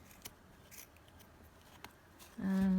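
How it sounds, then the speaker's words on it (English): Scissors snip loose thread at the side of a piece of stitching. Several faint, brief cuts come close up in a quiet room, followed by a louder sustained tone at the end. "just trim that down here at the side"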